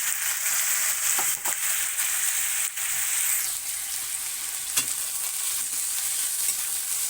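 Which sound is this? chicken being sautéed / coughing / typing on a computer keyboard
chicken being sautéed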